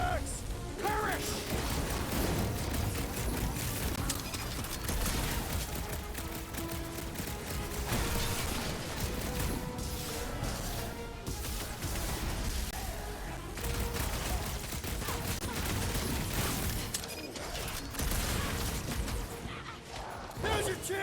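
Rapid gunfire and clattering mechanical blasts in a Guardians of the Galaxy battle, dense and continuous bursts layered with crashes and background effects, loud and close throughout.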